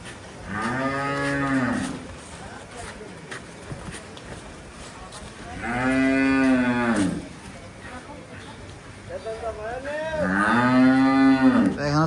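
Cows and calves moo on a Bangladeshi farm, three long, loud, resonant calls spaced several seconds apart, with quieter background noise and a few soft shuffles between them.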